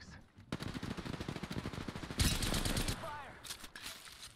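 Rapid automatic gunfire from Apex Legends on the Olympus map rattles almost continuously, with a louder, denser burst partway through, fairly close and prominent over brief background game sounds.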